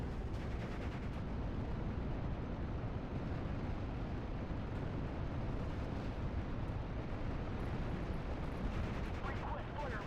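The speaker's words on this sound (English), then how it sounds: "And we will bombard this line over there." Artillery bombardment in the WWII strategy game Steel Division: Normandy 44, a continuous dense roar of rumbling explosions and distant gunfire that stays loud and steady throughout, with voices faintly underneath.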